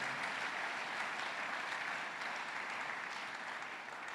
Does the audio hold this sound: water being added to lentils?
no